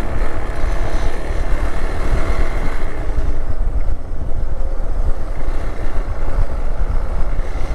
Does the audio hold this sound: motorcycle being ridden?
yes